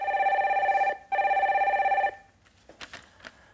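A telephone rings twice with an incoming call during a radio call-in show, each steady electronic ring lasting about a second, loud and close, followed by faint handling noise.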